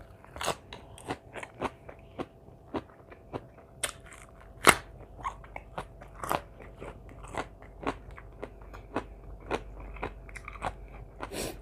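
Crunchy chewing of Thai som tam papaya salad with raw shrimp and salmon, close bites and crackly crunches repeating steadily at a quiet level with no talking.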